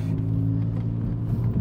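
Steady low engine drone and rumble from a SEAT Ibiza 1.4 TSI with a straight-piped exhaust driving on the road, continuous and fairly loud throughout, with no voices.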